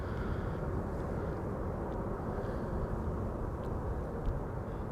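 An airplane arriving at Amsterdam Schiphol Airport rumbles steadily with a loud, low, broad engine roar that holds constant throughout, with no voices.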